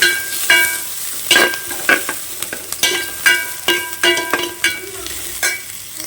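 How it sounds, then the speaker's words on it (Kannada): Chopped ginger frying in a pan before fish is added for a Mangalorean bondas sukka, sounding as a close sizzle punctuated by about a dozen sharp, evenly spaced spatula scrapes and clacks, with no voices. "ಸ್ವಲ್ಪ ಫ್ರೈ ಮಾಡಿಕೊಳ್ಳುವ."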